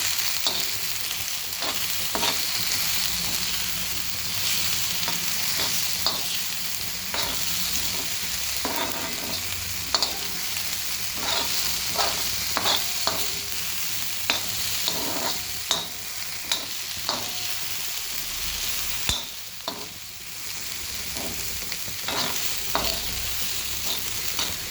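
A pan of food sautéing with a constant bright sizzle, while a spatula scrapes and clacks against the pan in irregular strokes throughout, close up and with no voices.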